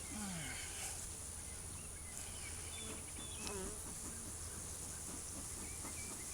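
Honey bees from a captured swarm hum steadily inside a brood box in Biloxi, Mississippi, a dense, continuous buzz with a faint hiss running the whole way through and brief voices and handling noises now and then.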